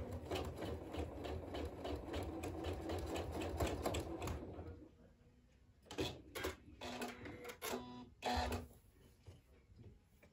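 A sewing machine stitches a quarter-inch quilt seam with a continuous close buzzing run of about five seconds, followed by several short stop-start bursts of stitching.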